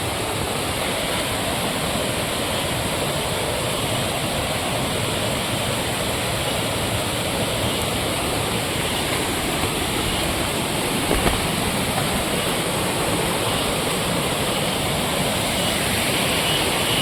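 A hidden waterfall near Sirsi roars as a dense, steady wash of falling water, loud and unbroken throughout with no voices over it.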